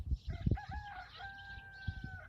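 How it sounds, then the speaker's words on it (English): Chickens cluck loudly and close, then a rooster crows a drawn-out call, with more clucking scattered around it. "the chickens were just raising a huge ruckus."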